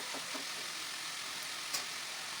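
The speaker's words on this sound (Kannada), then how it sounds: "ನಾನು ಜಸ್ಟ್ ಸೊಪ್ಪನ್ನ ಒಗ್ಗರಣೆ ಹಾಕಿ ಸೊಪ್ಪು ಮಿಕ್ಸ್ ಮಾಡಿ" Greens sizzle steadily in hot tempering oil in a cooking pan, a soft continuous frying hiss with a few faint stirring clicks.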